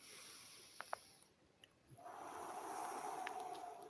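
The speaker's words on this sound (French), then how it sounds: "on expire par la bouche à fond" A long, forceful exhale through the mouth during a deep-breathing exercise, a steady breathy rush that swells and holds for a couple of seconds after a brief quieter pause, close and alone.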